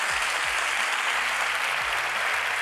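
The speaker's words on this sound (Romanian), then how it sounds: "Aplauze din partea Operei Naționale București." Loud, dense applause fills a hall at the National Opera Bucharest, a continuous wash of many hands clapping close by, with a voice faintly underneath.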